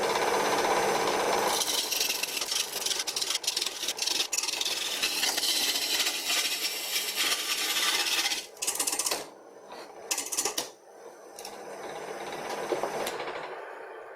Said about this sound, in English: I guess it isn't a proper test till I used my homemade gouge